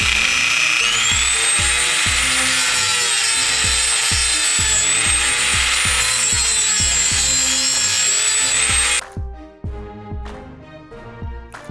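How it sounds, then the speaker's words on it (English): A high-pitched Dremel rotary tool drilling a metal pin whines steadily and loudly for about nine seconds with rhythmic grinding thumps beneath, then cuts out, leaving faint clatter. "You're going to want to turn your Dremel on and start drilling right on the side."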